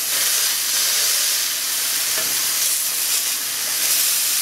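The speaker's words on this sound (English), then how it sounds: "I'm just going to cook these until there's no pink inside" Homemade sausages frying in a pan, a continuous bright hissing sizzle with steam, close and steady throughout with no talking.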